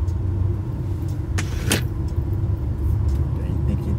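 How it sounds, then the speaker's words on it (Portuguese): Road rumble and engine noise come from a vehicle overtaking a heavy car on the narrow BR-101 highway in Brazil, with a steady loud drone and a couple of brief rattles. "Olha aqui a dificuldade para mim ultrapassar um carro aqui, ó. Um carro pesado. É muito estreito."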